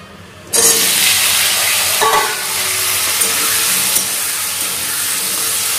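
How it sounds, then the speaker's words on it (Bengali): Potatoes fry in hot oil in a pan, giving a loud, steady sizzle and hiss. It starts abruptly and continues evenly with faint stirring, and no one speaks. "এবার আলুটা ভাজা চাপাবো।"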